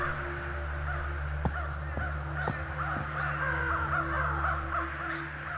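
Crows caw over the Grey Mountain in The Night of the Rabbit, several harsh calls spaced across a steady ambient game backdrop, moderately faint.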